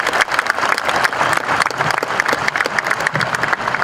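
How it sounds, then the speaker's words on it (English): A large crowd at a university commencement ceremony applauds military service members, with dense, continuous clapping at moderate volume throughout. "Let's have a round of applause for them."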